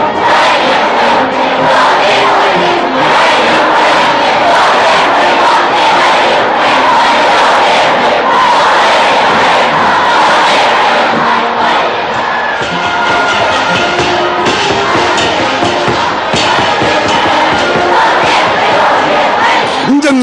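A large enthusiastic crowd cheers and shouts in a roaring, unbroken wall of sound at Beijing railway station as a special train pulls in, loud and dense throughout.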